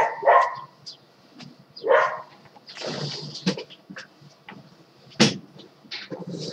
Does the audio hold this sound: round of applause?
no